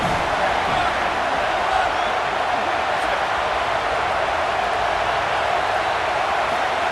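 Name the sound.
stadium crowd in EA Sports College Football 27 video game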